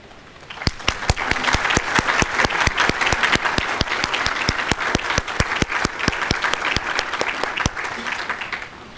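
An audience at the 2011 Bright Forum applauds the standing sponsors, organizers and volunteers, giving sustained close clapping with a few sharp individual claps cutting through, steady throughout and easing slightly near the end.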